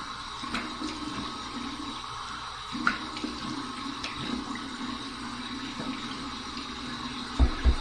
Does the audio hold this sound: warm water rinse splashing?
yes